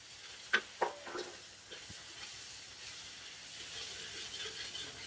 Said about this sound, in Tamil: அடுத்தது வெட்டி வச்சிருக்க 1/2 கிலோ வெங்காயம் போடலாம்.